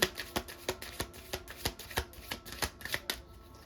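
A deck of angel oracle cards is shuffled in a steady run of crisp, rhythmic riffling taps, close and clear with no one talking.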